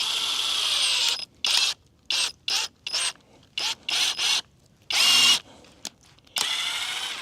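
A power drill drives screws in a camp setting, whining in a long burst, then a string of short stop-start pulses, then longer runs, loud and close with no talking.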